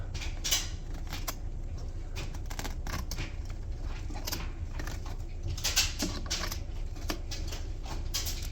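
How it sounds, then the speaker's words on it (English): Scissors snip through leftover carpet pile during a pet-damage carpet repair, a steady run of close, crisp cutting and rustling with a few sharper snips, with no talking. "grab my scissors and just cut that remaining stuff out"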